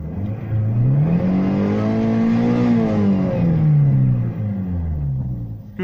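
A car engine revs under throttle after its fault warning light went out. It climbs in pitch to a loud, sustained roar, then falls back and dips before a final blip, close and without voices.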